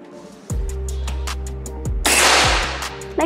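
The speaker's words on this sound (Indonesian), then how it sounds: "Lanjut lagi tembakan yang keempat." A few thuds and ticks, then a sharp, loud Ghost Warrior V2 air rifle shot cracks out midway before fading back to handling sounds.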